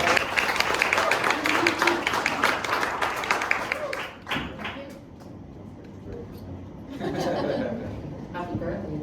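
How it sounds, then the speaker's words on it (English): Audience at a Web3 talk applauding as speaker Paula is called up, with dense clapping mixed with some chuckles that drops off midway, then a second swell of crowd noise near the end. "Give her a round of applause"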